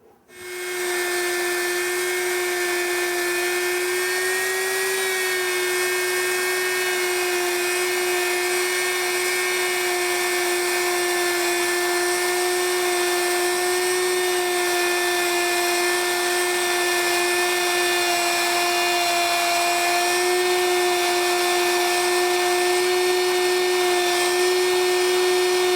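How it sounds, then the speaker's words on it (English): A wood router cuts a turning wooden cylinder, a loud, steady high-pitched motor whine that starts abruptly and holds for the whole stretch, with slight pitch wavers as the cut proceeds and no talk. "you want to travel with the router slowly while turning this fairly quickly"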